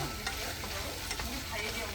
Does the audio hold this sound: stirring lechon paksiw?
yes